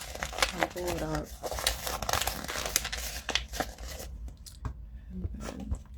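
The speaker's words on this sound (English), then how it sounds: "Crumple it up." Paper for journal pages crunched and crinkled in the hands, a dense continuous crackle mixed with a person speaking, easing off near the end.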